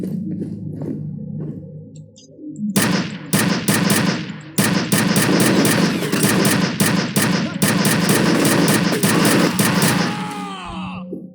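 Rapid bursts of gunfire in the video game F.E.A.R., loud and close, firing in repeated volleys for several seconds before tapering off.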